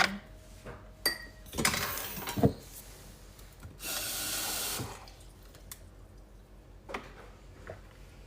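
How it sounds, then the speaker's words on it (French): Dishes being washed by hand: scattered clinks and scrapes of pots and cutlery, bursts of running tap water and rubbing sounds, close by and irregular, with no talking. "Une petite vaisselle à soir."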